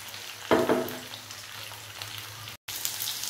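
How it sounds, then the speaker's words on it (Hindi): Okra (lady finger) fries in oil with a steady crackling sizzle that swells loudly near the start, then settles into a constant hiss with a brief dropout. "इनको तब तक फ्राई करें जब तक ये ब्राउन नहीं हो जाती, लाइट ब्राउन।"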